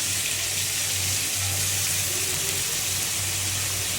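Garlic paste sizzles steadily in oil over already fried onions in a home kitchen, a continuous hissing fry with a low hum underneath and no voices.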